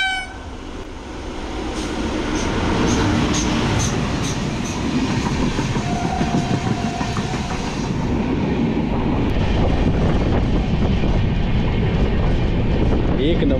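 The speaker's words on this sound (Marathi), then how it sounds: "आता जी समोरून जी एक्सप्रेस येते" An express train on the Konkan Railway rumbles past at close range with a loud, sustained roar and rhythmic wheel clatter, building over the first seconds and holding steady, while a person talks over it.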